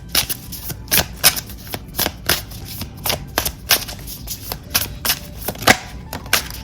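Tarot cards being shuffled by hand, a run of crisp riffling snaps and slaps repeating steadily at close range, about a dozen bursts with no voices.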